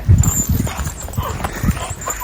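Hooves of a horse named Pony clip-clop irregularly as it is led along, with close, uneven thuds and scuffs while people talk over them.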